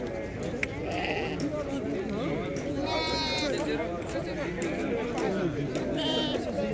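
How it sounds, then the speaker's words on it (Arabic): Sheep bleat repeatedly at a busy livestock market, several calls rising over a steady crowd murmur and people talking nearby. "قليل هذا الخروف في السوق تبارك الله"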